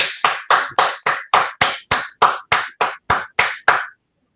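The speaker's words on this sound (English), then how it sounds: "give him a warm round of applause" About a dozen single hand claps in a steady, evenly spaced rhythm, close and sharp, from an online audience applauding a speaker, then stopping abruptly into silence.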